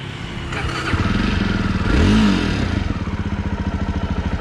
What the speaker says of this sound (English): let's start the bike and see how it feels to ride the bike